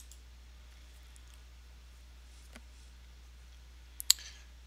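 A computer mouse clicks a few times in a quiet room, a faint single tick followed by a sharp double click near the end over low steady hum.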